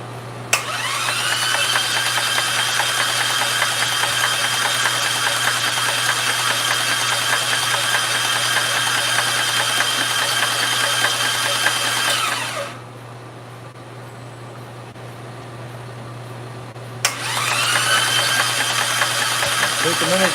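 A running engine pumping oil, a steady mechanical drone with broad high-frequency noise that cuts out for about four seconds midway, then resumes at the same level.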